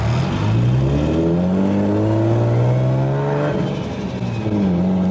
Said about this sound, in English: That's a nasty exhaust leak.